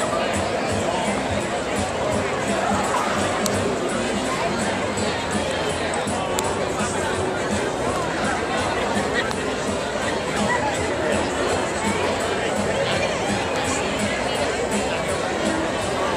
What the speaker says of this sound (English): they got a good crowd here.